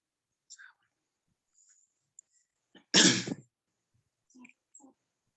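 A single sharp cough bursts out loud and close in an otherwise quiet room, with faint breathy sounds and small mouth noises around it.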